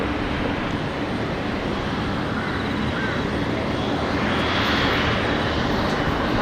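Aircraft on the field at Brisbane Airport produce a steady, distant broadband engine roar that swells slightly toward the end, with no other sounds standing out.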